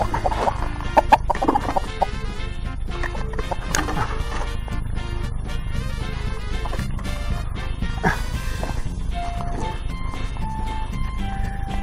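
A rooster with its head stuck in a bucket clucks and squawks nearby while a dog barks repeatedly, the calls mixed and overlapping at a steady loud level.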